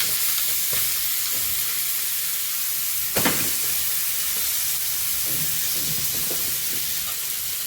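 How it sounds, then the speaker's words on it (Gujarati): A Mumbai street-style bread pudla, chickpea-flour batter on bread, sizzles in oil on a pan, a steady frying hiss with one sharp scrape-and-clatter as it is flipped, then quieter crackles continue. "હવે ધીરેથી આપણે આને પલટાઈ દઈશું."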